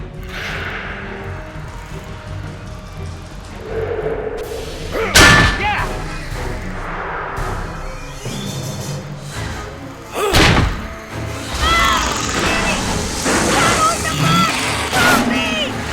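Heavy air tank slammed against a crate lock in a Jurassic Park adventure game, landing as two loud separate thuds around mid-scene amid clattering and mechanical noise, with characters talking throughout.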